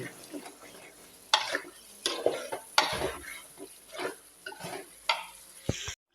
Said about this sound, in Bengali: এখন আমি রান্না করতেছি